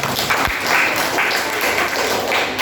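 Students in a classroom burst into applause after a presentation, a close, fairly loud and steady clatter of many hands lasting a couple of seconds without speech.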